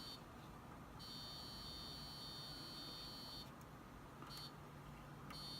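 A multimeter on continuity test emits a steady high-pitched beep for a couple of seconds, then two short beeps, over a quiet room hiss while probing an old TRS-80 Model I keyboard.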